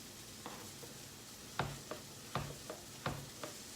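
Mushrooms being sliced with a knife for a mushroom stroganoff, a series of crisp, close cuts, with three louder board taps each followed by a lighter one, in an otherwise quiet kitchen.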